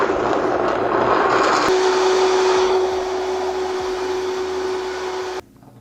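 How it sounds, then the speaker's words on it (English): A blender whirs steadily as it mixes lemon juice, almond milk and water, a loud continuous motor drone with a sustained whine that runs for several seconds before cutting off abruptly near the end. "And we're gonna blend that up."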